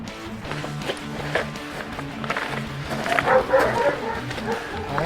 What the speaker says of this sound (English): Them dogs have a lovely life.